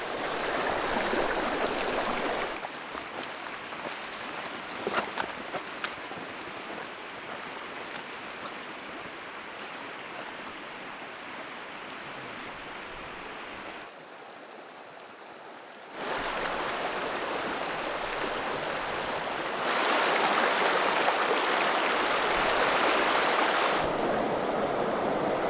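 A trout river in the Bighorn Mountains flows steadily, a broad continuous rush of water that swells louder in places, with no voices.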